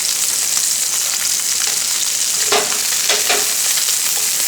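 Meat or vegetables searing in a hot pan with garlic sauce nearby, a steady loud sizzle and fry hiss throughout with a few brief crackling bursts, no voices.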